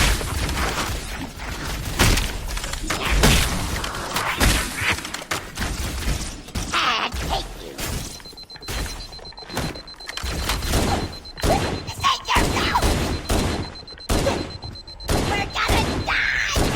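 Explosions and gunfire crash repeatedly in Halo Anniversary, a dense, loud run of booms and sharp impacts with grenades going off amid the firefight.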